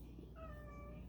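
A house cat meows once to be let outside, a drawn-out, slightly wavering cry heard close over a steady low background hum.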